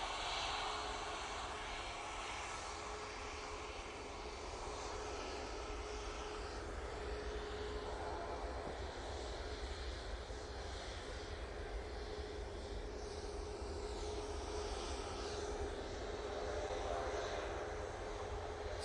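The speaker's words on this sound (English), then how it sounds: "another Ryanair. Going off to Alicante." A Ryanair airliner departs Manchester Airport bound for Alicante, its engines a steady, broad roar held at even loudness for the whole stretch, fairly distant with no talk over it.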